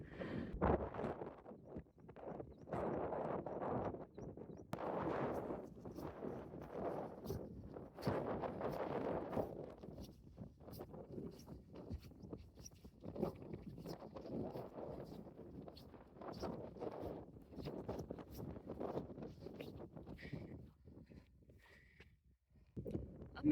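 Wind blowing across an open hillside in the Yorkshire Dales, a steady buffeting rumble that hits the microphone hard and close throughout, with gusts rising and falling and no clear talk.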